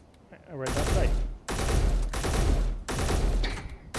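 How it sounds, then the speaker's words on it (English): Three-round bursts from an MA-30E modernized rifle with extended magazine in the Space Engineers game, loud and close: three long, dense volleys of rapid gunfire separated by brief gaps, following a short faint lead-in. "Now we're going to go to the MA-30E, which is the modernized with 3-round burst, extended magazines"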